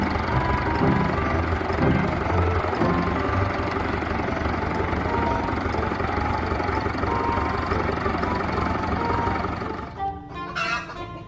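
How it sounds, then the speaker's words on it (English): A toy truck excavator's engine idles with a steady, close, mid-to-low rumble and faint knocking, running evenly for most of the clip before dropping off near the end. "Wow, truck excavators."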